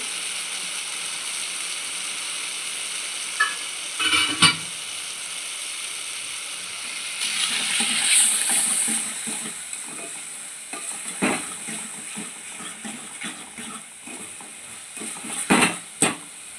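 Tomatoes fry in oil with salt and asafoetida for palak dal, a steady close sizzle running throughout while a spoon scrapes and clatters against the pan in short bursts, louder near the middle and end.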